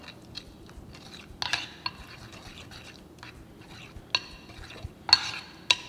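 Turmeric, coriander powder and salt mixed for marinating aubergine slices, soft scraping and mixing under a low hum, with sharp intermittent clicks and taps of utensil against a dish, close and no voices.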